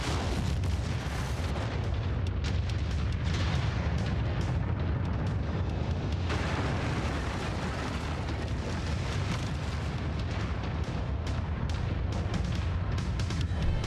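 Battle from the MechWarrior 5 game with the MechCommander Mercenaries mod: a dense, continuous barrage of booming weapon fire and explosions, loud and rumbling throughout with sharp repeated impacts layered over heavy low roar.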